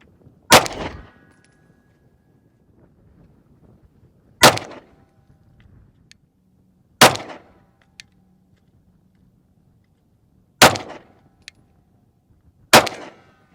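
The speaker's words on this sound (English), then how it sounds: "Shoot the top right target." Five sharp pistol shots from a Bul Armory Ultralight Pro firing Gold Dot rounds crack out at an outdoor range, spaced two to four seconds apart with quiet gaps between each report.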